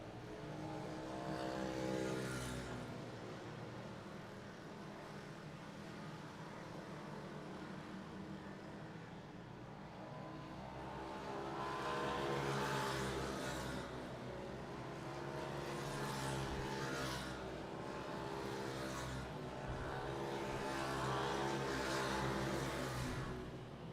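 Racing karts at a Clay Pigeon Kart Club championship round, including FP4 World Formula karts, run round the circuit past the hairpin and horseshoe, engines droning steadily and swelling in several loud passes with no talk.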